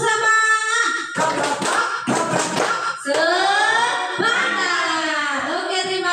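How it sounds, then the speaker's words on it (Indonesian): An audience of adults performs the 'tepuk semangat' spirit clap, bursts of rhythmic hand claps and taps mixed with loud group voices chanting along. "Coba kalau senang tepuk semangat. Tepuk semangat."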